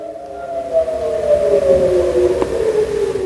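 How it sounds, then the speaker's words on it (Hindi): A long, steady siren wail drones on, its tone sliding slowly downward over a few seconds, loud against a faint background rumble. "सायरन भी बज रहा है।"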